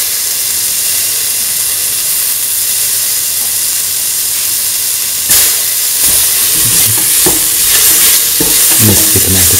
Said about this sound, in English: mix the tomato pieces with the rest of the mixture